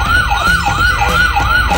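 A toy fire truck's wailing siren rises and falls in a quick, regular cycle, about five sweeps, loud and close with a faint motor hum beneath.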